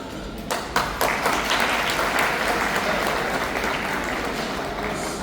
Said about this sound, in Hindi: उनके लिए भी तालियां जरूर बजाइएगा sir. Afzal, mister Afzal sir